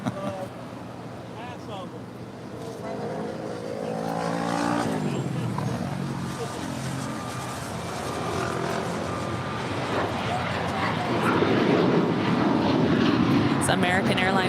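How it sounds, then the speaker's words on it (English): American Airlines Boeing 737-800, five years old, departing LAX for Chicago O'Hare; a rising, rumbling jet roar builds louder toward the end under people chatting nearby. "American Airlines 1932 off to Chicago O'Hare. It is a 5-year-old 737-800."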